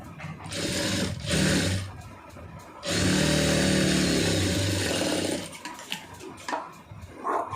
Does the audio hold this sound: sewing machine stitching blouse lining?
yes